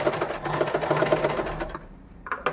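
A sewing machine stitching a gher umbrella frock runs in a fast, even mechanical chatter for most of the time, then stops, followed by a few brief clicks.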